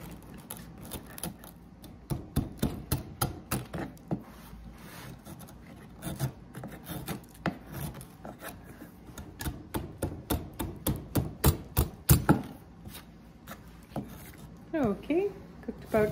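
A chisel works flat a patch of rotten, water-damaged particle board, making a long series of sharp scraping strikes at an uneven rhythm, close and moderately loud.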